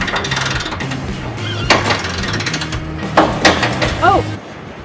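Wrench ratcheting and clanking against a stuck bolt on a 1953 White WC tractor, several loud metallic clicks and knocks with a sharp squeak near the end, heard close up under background noise.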